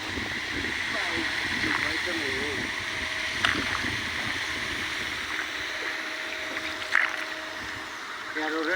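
A sailing boat moving along water near a fish enclosure, with a steady low wash and gentle lapping close by and a few soft knocks, under people talking.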